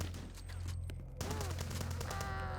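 Rapid bursts of gunfire from the shooter game HROT, loud and dense, with repeated shots and game sound effects layered over a constant low hum, no talking.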